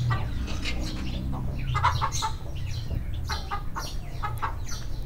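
Aseel chickens cluck in short, repeated bursts at a farm enclosure shared with guinea fowl, several birds calling close by over a low steady background hum.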